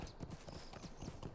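A horse mount's hooves clip-clopping in Lord of the Rings Online, ridden from Hangstacer Farm: a quick, steady run of soft hoofbeats, faint and even, with no voices over them.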